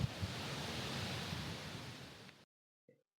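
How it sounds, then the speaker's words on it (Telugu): Waterfall in New Zealand pounding down with force, a steady broadband rush of water that holds for over two seconds before cutting to near silence with a brief faint sound at the end. "వాటర్ అంత ఫోర్స్గా పడుతుందండి"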